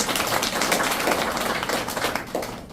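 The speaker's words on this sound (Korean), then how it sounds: "여러분들을 위해서 큰 박수 한 번만 드리고 싶습니다." Scattered clapping from an audience of CEOs at a lecture in a Seoul chamber of commerce hall, a modest, steady patter of hands lasting a few seconds with no voices over it.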